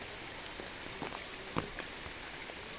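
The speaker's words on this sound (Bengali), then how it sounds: "প্রচুর বৃষ্টি হচ্ছে" Heavy rain patters steadily onto a tin roof above a home vegetable garden, with a dense hiss and scattered louder drops hitting close by.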